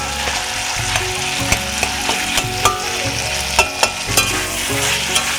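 Eggs are stirred into a sizzling spice masala in a pan: a continuous loud frying hiss, punctuated by irregular sharp clicks and scrapes of a spatula against the pan, with no speech.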